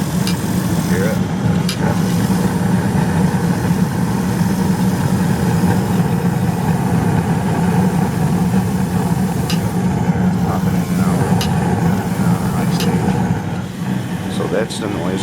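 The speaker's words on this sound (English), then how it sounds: "That's the noise I was hearing. So, and it only happens in high stage." Steady droning hum of a Carrier two-stage 95% furnace inducer motor running in high stage with a clicking fault, loud and continuous with a few faint ticks.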